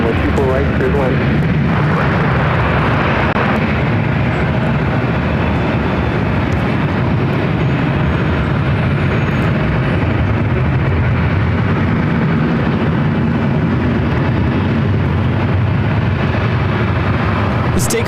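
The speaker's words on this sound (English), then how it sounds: "This takeoff is Southwest Airlines 3595, taking off to San Jose on the MAX 8." A Southwest Airlines Boeing 737 MAX 8 taking off from LAX, a loud, sustained jet engine roar that holds steady for the whole span, with talk faintly underneath.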